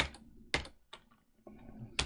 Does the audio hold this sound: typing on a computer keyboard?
yes